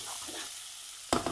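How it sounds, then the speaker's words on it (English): Onions frying in hot pancetta fat give a soft, steady sizzle, then a spoon stirs them with a sudden close clatter near the end of the short stretch. "A nice hot one, get a good sizzle going, stir it up."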